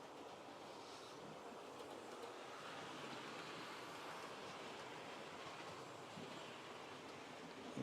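Several Hornby model locomotives run together on a multi-level layout, a steady broad rumble and rail clatter with no break and no talk.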